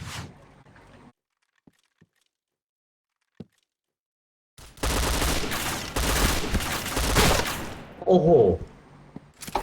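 Rapid bursts of video game gunfire and blasts fill the second half after near silence, with a few faint clicks earlier; dense, loud, and continuous.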